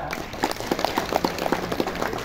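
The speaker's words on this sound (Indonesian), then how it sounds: "Ya, tepuk tangan" An audience at a spoken lecture bursts into applause, a dense run of many hands clapping together with a loosely rhythmic pulse, fairly close and steady throughout.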